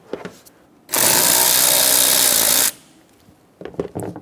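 A power tool loosens an airbox clamp on a 2014-2018 Chevrolet Silverado 1500 5.3L, giving one loud, steady burst of about two seconds, with quieter handling noises before and after.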